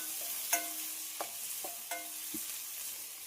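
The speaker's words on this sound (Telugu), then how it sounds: "ఈ ఆనియన్లు అన్నీ కూడాను మంచిగా వేగిన తర్వాత పప్పు పోసుకుంటే మంచి స్మెల్ వస్తుంది." Onions sizzle in a hot oil tempering with coriander, a steady frying hiss broken by a few sharp clinks of a stirring spoon against the pan, close up with no talking.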